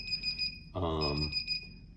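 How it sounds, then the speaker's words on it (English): A second-generation Acura Integra's key-in-ignition warning beeps in a steady, high-pitched, quick rhythm, briefly masked by a burst of broadband noise partway through. "I get the beeping that I think it's supposed to do."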